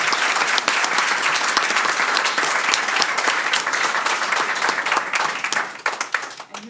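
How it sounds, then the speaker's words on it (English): Clapping at a board meeting: a room of people applauding with dense, crisp, close-up claps that hold steady, then thin out and break into scattered individual claps as it ends. "Can we have a round of applause for the"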